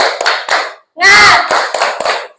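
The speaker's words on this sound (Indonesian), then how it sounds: "Tepuk semangat" Children in a classroom doing a rhythmic spirit clap led by their teacher: loud, close, sharp claps in a patterned beat, mixed with young voices chanting along.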